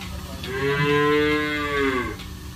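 A single long, deep moo from a Punjab HF cow, close by and loud, rising and then fading over about two seconds.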